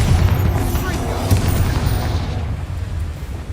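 A Bombarda blast from Hogwarts Legacy lands as a loud, deep booming explosion with rumbling debris that fades out over a few seconds, and a voice may be faintly mixed underneath.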